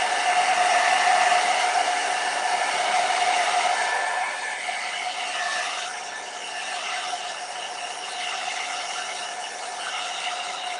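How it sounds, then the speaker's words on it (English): A hair dryer blows steadily and loudly on a watercolor painting, its whine dropping slightly in pitch and volume partway through, then continuing evenly to the end. "let me just use my blow dryer so I can dry this."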